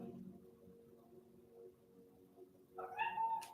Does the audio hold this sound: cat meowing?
yes